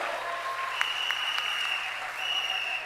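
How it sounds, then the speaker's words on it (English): A crowd claps steadily throughout at a political rally, dense sustained applause with a few sharper claps and a faint tone running underneath. "give them a round of applause."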